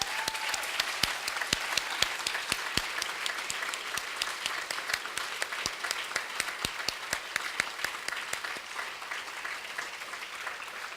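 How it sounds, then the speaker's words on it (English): Sustained applause from a graduation audience at the Taipei European School, steady dense clapping with sharp individual claps standing out, continuing strongly for about eleven seconds and easing slightly near the end. "Can we give them a round of applause?"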